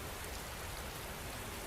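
Rain falls steadily as a dense, even hiss of drops on a surface, continuous and unchanging, with no voices.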